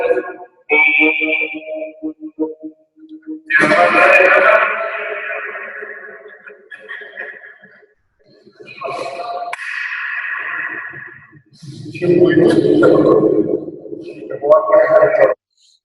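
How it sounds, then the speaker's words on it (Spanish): Sounds inside a reverberation room, with voices and tones that hang and echo for seconds after each burst, separated by short silences. People are talking and making sounds into the space. "en esto consiste esta sala de reverberación, de rebotar el sonido en varias dimensiones"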